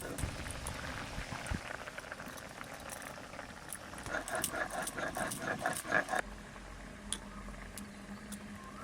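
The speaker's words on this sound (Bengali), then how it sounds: "খুব সুন্দর ফুটে গেছে ঝোলটা।" Fish curry bubbles in a pot over the fire, a soft, steady burble of popping bubbles close by that grows busier for a few seconds before settling back.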